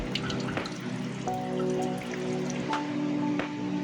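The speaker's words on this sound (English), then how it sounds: "wash the PCB using running water to remove the ferric chloride" Running water splashes continuously over a circuit board being rinsed of ferric chloride, with drips and tonal trickling close up, steady throughout.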